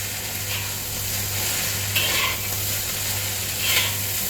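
Chinese fried rice stir-fried in a wok over high heat, with fish sauce added, giving a steady close sizzle and occasional scraping stirs of the spatula against the pan, no voices.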